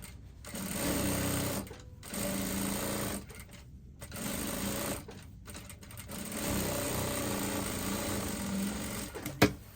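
A sewing machine runs in steady bursts of rapid stitching, pausing briefly between runs, close and fairly loud.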